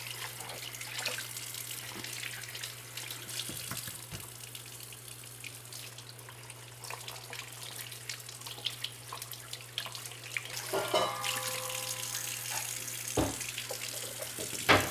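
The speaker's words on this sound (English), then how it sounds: "let us wash these vegetables." Garden vegetables washed under a running kitchen faucet, a steady stream of water with intermittent splashes, clatter and handling noises as the produce is rinsed, close and fairly quiet.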